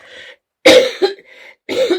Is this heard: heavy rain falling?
no